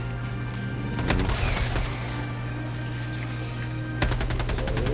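Gunfire in Helldivers 2: two sharp rapid bursts of automatic shots over a steady low game hum, close and moderately loud.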